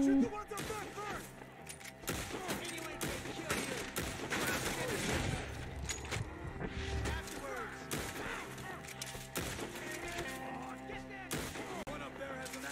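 Gunfire in Red Dead Redemption 2 aimed at enemies up in a tree, heard as scattered shots and bursts mixed with game sounds at moderate loudness, while voices talk throughout.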